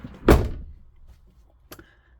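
The door of a Hymer MLT580 4x4 motorhome shuts with one loud, close thunk, followed about a second and a half later by a smaller click as the latch settles.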